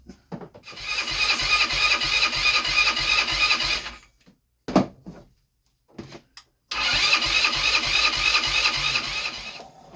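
A 150cc GY6 engine in a Blade 150 UTV clone cranks over with starting fluid in two long rasping starter bursts that are loud and close, separated by a few short clicks and silence, without catching.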